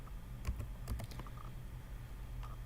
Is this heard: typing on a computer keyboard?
yes